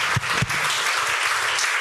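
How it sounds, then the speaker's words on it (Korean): A church congregation applauds during a Sunday sermon, a dense burst of clapping from many hands with a couple of low thumps near the start. "우리 박수 한번 해주시기 바랍니다"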